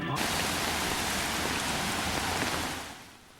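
Steady rain pours down in Detroit in a dense, even hiss, loud and close throughout, easing off slightly near the end.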